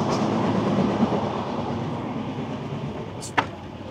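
Benapole Express passenger train running on rails, with a steady loud rumble and clatter throughout and a brief sharp squeal near the end, heard with no talking.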